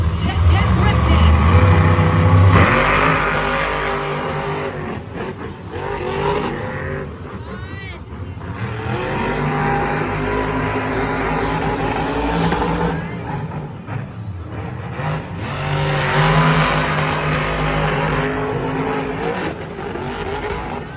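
Monster trucks named Bailey Circuit and Megalodon race head-to-head, with loud engines revving and roaring throughout and a brief tire squeal, under continuous excited commentary.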